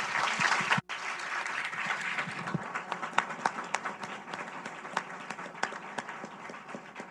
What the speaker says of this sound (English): you deserve another round of applause for your courage